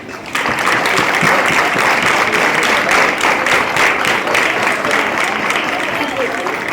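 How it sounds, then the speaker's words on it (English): Students at a school science exhibition break into loud, sustained clapping for their parents, a dense crowd applause that starts abruptly and holds steady, with a voice audible under it. "Now students, get your hands together and we clap for our parents."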